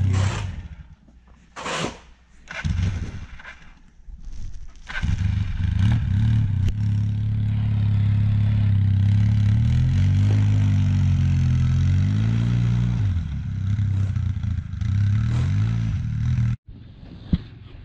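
A snow blower engine struggling to warm up in sub-zero cold sputters and coughs in uneven bursts, then settles into a loud, rough, wavering running drone before cutting off abruptly, without speech.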